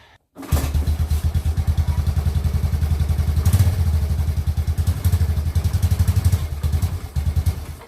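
A 1998 Yamaha Big Bear ATV engine starts without choke and runs at a loud, rapid, even chugging idle close by, the beat firming up slightly after a few seconds.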